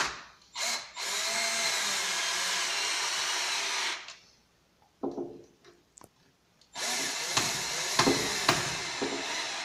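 A power screwdriver drives screws into a wall cabinet, giving two loud sustained whirring bursts separated by a quieter stretch of clicks and handling knocks, close to the listener.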